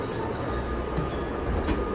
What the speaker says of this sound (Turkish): Böyle yağmurlu bir havada tren yolculuğu yapıyoruz.